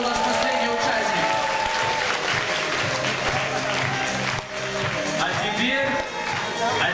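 A school audience at a stage show applauds in a steady, dense wash of clapping that carries the whole stretch, with a few voices heard through it.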